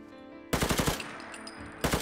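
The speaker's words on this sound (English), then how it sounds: "Time for the AK." An AK rifle in the video game Fallout 4 fires two loud, close bursts of rapid automatic shots, the first longer, separated by a brief pause.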